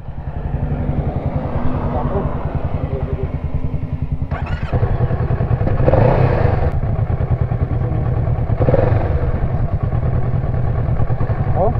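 Kawasaki Z650 motorcycle with a faulty throttle, its engine running steadily and rising in bursts of revving on a roadside curve, loud and close, with people talking over it.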